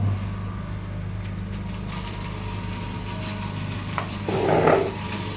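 A household flour mill (chakki) grinding chickpea dal, a steady low mechanical hum with a constant drone and a rougher, louder grinding swell near the end.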